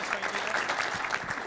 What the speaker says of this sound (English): Ladies and gentlemen, a round of applause for Michael Bass.